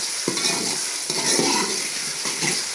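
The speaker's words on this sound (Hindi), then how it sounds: "मैंने अदरक लहसुन के पेस्ट को हल्का सा ब्राउन किया जी" Steady sizzling of ginger garlic paste frying in a hot pan, with a few scraping stirs of a spoon against the metal; no voices.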